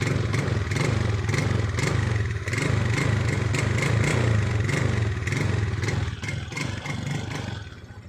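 A motorcycle engine runs steadily close by for the whole stretch, with a fairly quiet exhaust giving a continuous low drone and some mechanical clatter. No one speaks.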